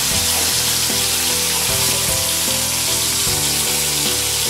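Small chapila fish fry three at a time in hot oil over a medium gas flame, giving a steady, close, loud sizzle that hisses on without a break.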